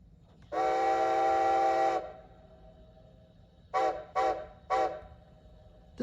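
Steam whistle from a TCS sound decoder in a Bachmann Strasburg 90 model locomotive: one long, loud, steady blast, then a pause and three short toots in quick succession, with no talking.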